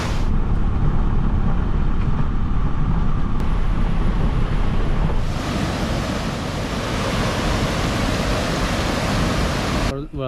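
Meenvallam waterfalls in Palakkad produce a loud, dense roar of rushing water that fills the whole stretch without letting up.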